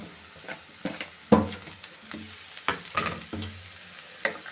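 Dried beef cooked for a thoran fries in a pan with a low sizzle, while a spoon scrapes and knocks the pan in irregular strokes, close and fairly loud, with no talk.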